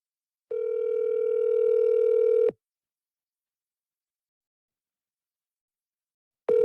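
An unanswered telephone call rings out: one steady two-second ringback tone, a long silence, then the next tone starting, clear and alone.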